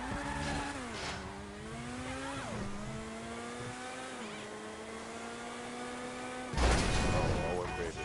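A supercar engine in GTA V roars steadily with rising and falling revs and gear shifts, sustained and loud throughout, with a sharp burst of noise near the end.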